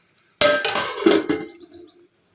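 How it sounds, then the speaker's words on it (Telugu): A metal lid set down on a cooking pot of mutton keema, a sharp clattering clank followed by a brief ringing rattle as it settles, close and loud, with nobody speaking. "మూత పెట్టేసుకోవాలి"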